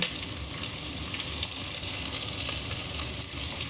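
White onion frying in a pan, a steady dense sizzle with light stirring scrapes, continuous and close, no voices.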